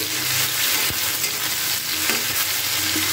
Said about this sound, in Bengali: এটা দিয়ে একটুখানি নাড়াচাড়া করে নিচ্ছি টমেটোটা দিয়েও।